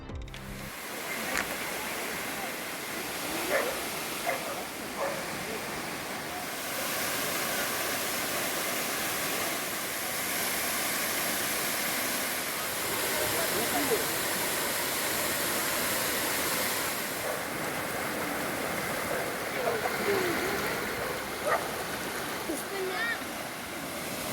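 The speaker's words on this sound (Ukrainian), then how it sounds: "Джуринський водоспад у всій своїй красі" A steady, broad rush of falling water from the Dzhuryn waterfall in Ternopil region, Ukraine, fills the whole clip, constant and fairly loud with slight swells, no voices heard.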